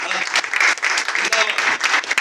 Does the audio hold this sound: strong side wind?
no